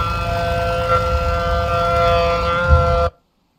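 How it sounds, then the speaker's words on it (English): Civil defense sirens wailing during a severe storm chase, a steady sustained tone with layered harmonics holding loud and constant for about three seconds before cutting off abruptly into silence. "Oh, here comes sirens."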